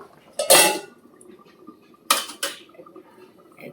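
A metal lid lifted off a pot of boiling potatoes: a loud clattering clank near the start, then two sharper metallic knocks a little later, with a faint bubbling simmer underneath between them.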